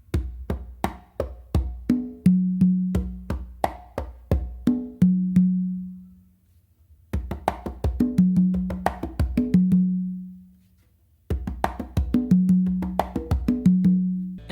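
Songo rhythm played by hand on three congas, including the tumba, in three repeated phrases of crisp slaps and open tones with ringing low notes, separated by short pauses and played alone without talk.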